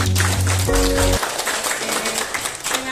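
A brief musical sting gives way to a burst of crowd clapping at a village gathering in Muara Tinobu, North Konawe, Indonesia, holding steady for a couple of seconds, loud and close.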